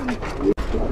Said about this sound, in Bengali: এখানে একটা শাটিং কবুতর আছে